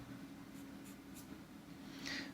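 A graphite pencil drawing lighter blades of grass on toned paper makes faint, soft scratching strokes in a few short bursts over quiet room tone, with no talking.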